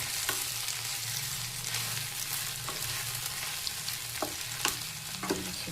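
Brinjal curry being stirred in a hot pan, with a steady sizzling fry throughout and a few sharp scrapes of the spoon against the pan near the end, close and even, with no voices.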